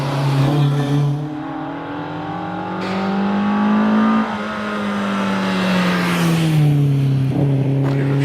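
MGB Roadster race car climbing a hill course at a historic hillclimb, engine revving hard through several gear changes with rising and falling pitch, close and loud, no talk.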